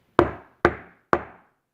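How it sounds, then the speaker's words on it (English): Three evenly spaced, sharp knocks on a door in an animated scene, each crisp and resonant with a short decay, close and clear with no talking. "Haman knocks on his door."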